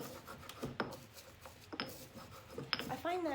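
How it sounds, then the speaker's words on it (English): Dried herbs, including verbena flowers, ground in small amounts with a pestle in a mortar, giving a few soft gritty rubbing scrapes close by with brief knocks and speech-like sounds between. "you grind it up"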